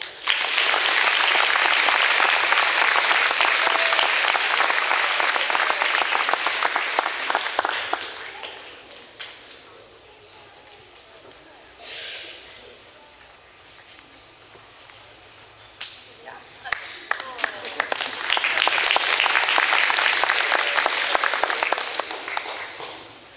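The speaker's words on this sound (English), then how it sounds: "I cannot applaud loud enough to show how proud I am of Justin Hensel." An audience claps at a middle school award day ceremony, dense sustained applause that fades into a quieter stretch with scattered claps, then swells again into full applause.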